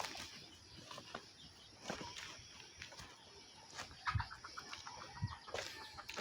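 Faint chicken sounds on a hillside farm, soft clucks and short peeps scattered over quiet outdoor background, with a couple of brief louder calls near the end.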